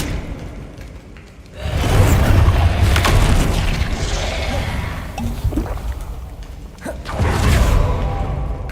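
In the video game Hogwarts Legacy, the Confringo blasting spell goes off with a loud booming explosion and a rushing whoosh, followed by sustained rumbling and a second surge of blast noise.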